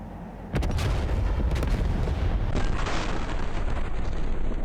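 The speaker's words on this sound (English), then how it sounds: "On 11-second fuses, the bombs explode, demolishing parts of the prison and blasting open a hole in the southern wall." Bombs exploding and blasting a hole through a prison's southern wall: a sudden heavy boom followed by a sustained loud roar of blast and rumbling debris, with no speech.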